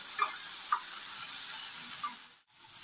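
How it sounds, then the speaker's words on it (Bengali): Okra fries with turmeric in a pan with a quiet, steady hiss. A few light stirring taps break it up before a brief pause near the end. "এখন এটা ভাজা ভাজা হবে অল্প।"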